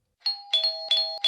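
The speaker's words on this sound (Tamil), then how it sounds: "காலிங் பெல் அடிச்சிட்டே இருக்கேன்" An electronic doorbell chimes three or four times in quick succession, clear, bright, and tonal, with short gaps between each ring and no voices.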